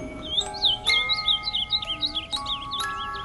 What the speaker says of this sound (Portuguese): Ouviu-se um piado agudo e curto.